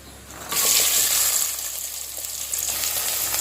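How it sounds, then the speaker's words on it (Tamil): Chopped onions dropped into hot oil for prawn dum biryani, breaking into a loud, steady sizzle that surges at once and holds as a close, continuous hiss with no talking. "நம்ம கட் பண்ணி வச்சுருந்த வெங்காயம் சேர்த்துக்கலாம்"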